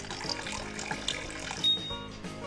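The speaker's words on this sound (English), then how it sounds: "And some water in the mixer too." Water poured into a cement mixer in the Build with Grandpa building app game, a soft continuous trickling splash with a brief bright chime partway through, fairly quiet throughout.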